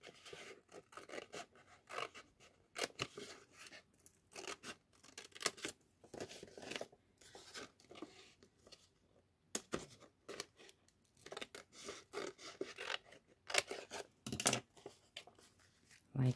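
Scissors snip through a paper envelope to cut out a window, a run of short crisp cuts and paper rustles close by, quiet, with brief pauses between strokes.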